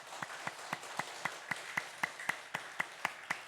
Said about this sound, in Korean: 우리 하나님 앞에 감사의 박수를 올려드립시다